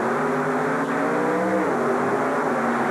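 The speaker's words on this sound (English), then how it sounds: "Both of these guys love to fly their monster trucks" Loud, continuous engine roar of monster trucks at close range at a 1992 race event in Columbus, Ohio, droning steadily for the whole stretch with no voices.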